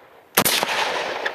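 A single sharp gunshot cracks out loud and close, then a reverberant echo and rumble trail off as it fades across the open air.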